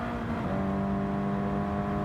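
Engine of a Toyota GR86 RZ '21 race car at Suzuka in Gran Turismo 7 drones at a steady high pitch, a sustained loud whine with faint overlapping tones of nearby cars.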